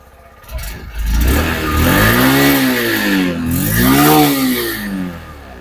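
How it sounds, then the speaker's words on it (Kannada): A Honda Shine 100 motorcycle engine revs up twice from idle, its exhaust rising to a loud, throaty roar and easing back in between. "ಒಂದ್ಸಲ ರೈಸ್ ಮಾಡ್ತೀನಿ ಎಕ್ಸಾಸ್ಟ್ ನೋಟ್ ಯಾವ ತರ ಐತೆ ಅನ್ನೋದನ್ನ ಒಂದ್ಸಲ ಕೇಳಿಸ್ಕೊಳ್ಳಿ"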